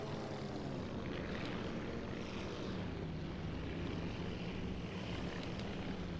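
Propeller fighter planes of a Japanese A6M5 campaign in the IL-2 Sturmovik flight game drone overhead, a continuous steady engine roar filling the whole stretch without pause.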